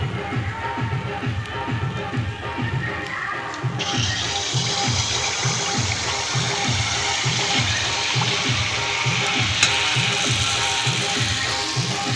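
Malpua pancakes frying in oil, village style: a loud, steady bubbling hiss that swells after a few seconds, with a rhythmic low thumping running underneath throughout.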